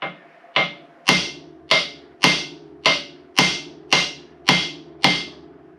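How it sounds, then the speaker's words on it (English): Hammer striking a car's steering arm to free a tie rod end on Chuck's 151: ten sharp, ringing metallic whacks at a steady, roughly half-second rhythm, close and loud with short decays. "Just smack the arm and it should come right out."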